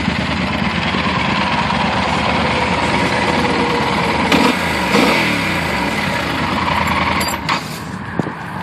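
Yamaha Super Tenere 1200, a liquid-cooled four-stroke 1200cc twin-cylinder adventure touring motorcycle, idling steadily with an even low throb, close by and moderately loud, with faint outdoor background noise.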